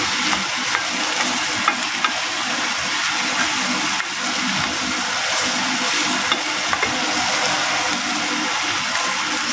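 Vegetables for a soup frying in a large pot, a loud continuous sizzle with stirring and scraping throughout, close up, no talking.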